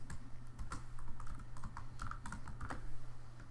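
Rapid keystrokes tapped on a computer keyboard while renaming a spreadsheet worksheet tab, a steady run of close, crisp clicks over a low hum.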